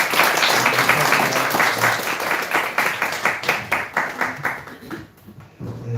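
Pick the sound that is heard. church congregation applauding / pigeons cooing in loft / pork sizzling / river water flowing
church congregation applauding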